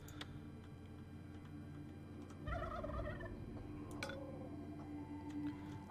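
Gobbler creatures gobbling in the video game Dungeons 3: a short warbling gobble call sounds midway over a quiet hum of game ambience with faint ticks, a softer call trailing after.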